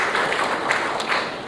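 Audience applause at the Air Cargo India 2016 conference, a steady, fairly loud wash of many hands clapping together, brief and without talk.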